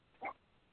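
A dog gives one short, faint bark from a distance against a quiet background.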